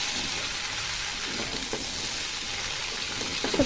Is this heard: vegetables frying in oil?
yes